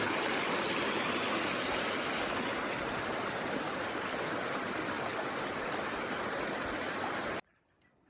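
A small stream along the Pacific Crest Trail in Oregon gurgles and rushes steadily and evenly, a continuous watery wash with no voices, ending suddenly.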